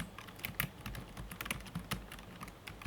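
Fingers type on a computer keyboard while a LaTeX resume is edited, giving close, quiet, irregular key clicks in quick bursts with no talking.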